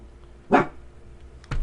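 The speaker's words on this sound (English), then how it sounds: "You get your own program if you want to bark." A dog lets out a single sharp bark close by in a quiet room, and a second short bark or yip follows about a second later.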